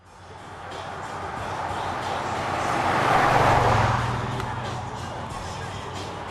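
A car approaching and passing, a rumbling engine and road noise that swell to a peak midway and then fade.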